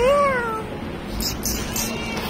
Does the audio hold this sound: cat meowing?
yes